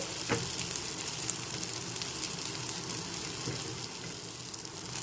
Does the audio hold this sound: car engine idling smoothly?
no